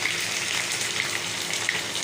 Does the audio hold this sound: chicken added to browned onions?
yes